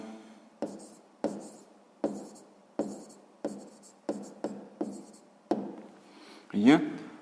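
Pen or pencil strokes write out a math calculation on paper, a series of about a dozen sharp, close scratching taps at an uneven rhythm, ending in a longer scribble.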